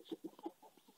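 Backyard chickens in a winter coop cluck close by in a string of short, throaty bursts, some overlapping, with brief pauses between calls.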